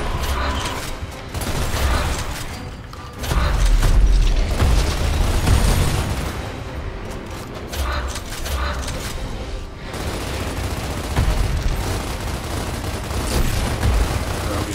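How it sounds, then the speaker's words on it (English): Continuous gunfire and explosive bursts in a Gears of War co-op battle, dense, loud and chaotic throughout with heavy booms and mechanical clatter. "I'm shooting his feet here."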